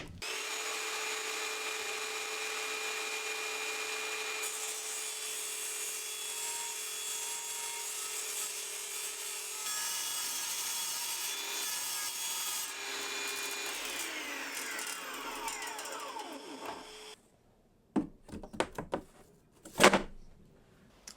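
Power saw fitted with a fine 48-tooth blade cuts through wood for a cheap shed, a steady loud whine with layered tones running about seventeen seconds before winding down, followed by a few sharp knocks and clatters.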